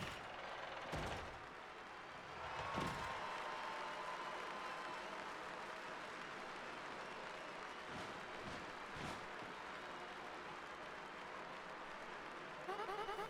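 Crowd applause in Paper Mario: The Thousand-Year Door fills the background as a steady, moderate wash of clapping and cheering in a wrestling-style arena, punctuated by a few sharp hits.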